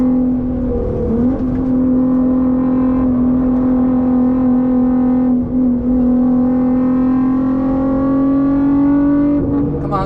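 A Nissan R35 GT-R in limp mode on the Nürburgring gives a loud, steady engine drone heard close up from inside, holding a nearly constant pitch with brief dips in between.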